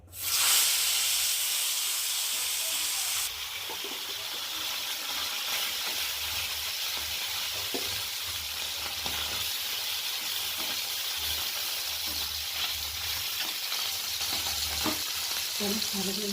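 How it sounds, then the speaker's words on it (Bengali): Parshe fish fry in hot oil, opening with a loud hissing burst that settles into a steady, close, bubbling sizzle with occasional faint pops, with no talking. "আর একটু তেল দিয়ে ভেজে নেব আর আরও কয়েকটা মাছ আছে ভেজে নেব"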